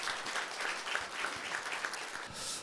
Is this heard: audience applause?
yes